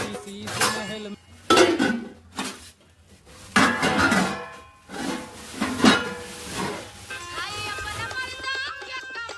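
Stolen metal pots, pans and utensils clatter and clink in bursts with a ringing tail, loud and close, in a Hindi comedy scene.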